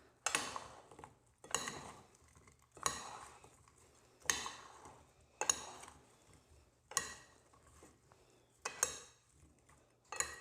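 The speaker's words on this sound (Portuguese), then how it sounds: "Vou pegar uma colher. Dar uma mexidinha." A spoon stirs a salt-reduced dish in a pan, giving about seven separate scraping, clinking strokes at a steady rhythm. Each stroke is close and moderately loud, with quiet pauses between them and no talk.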